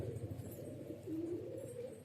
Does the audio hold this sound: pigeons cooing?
yes